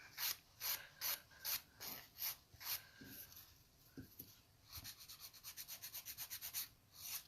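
A nail file rasps rhythmically along the side walls of an almond or coffin-shaped nail, quick repeated strokes close up, pausing briefly with small clicks before a faster run of short strokes.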